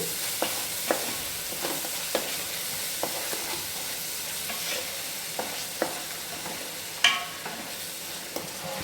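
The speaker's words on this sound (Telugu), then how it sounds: "మనకి గోల్డెన్ కలర్ వచ్చే వరకు ఈ గ్రేవీని అయితే వేయించుకోవాలి." Onion gravy for a fish curry frying in a pan toward golden brown: a continuous close sizzle with regular spoon scrapes and taps as it is stirred, one louder clatter near the end, and no talking.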